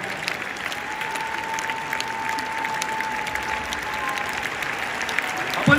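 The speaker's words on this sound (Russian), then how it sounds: "Аплодисменты" A large concert audience applauding at a jubilee show in Minsk, dense and steady clapping throughout, with a faint sustained tone lingering beneath the crowd noise.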